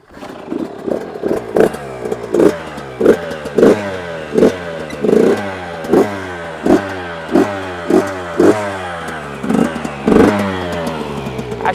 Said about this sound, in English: the bike even sounds deeper, like it has more power